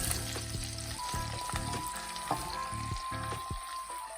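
A heap of onions fries in a pan for caramelizing, giving a soft, even sizzle with a rhythmic run of utensil scrapes and taps, quiet and close.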